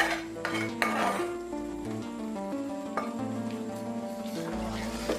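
Beef and spice paste are stirred in oil in a pot for beef tehari, with steady scraping and clattering of the spoon over a continuous sizzle, close and fairly loud.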